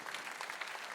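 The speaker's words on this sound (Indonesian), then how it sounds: "Tepuk tangan untuk Tuhan Yesus." A church congregation applauding during a Sunday service, a faint, dense wash of clapping that holds evenly throughout.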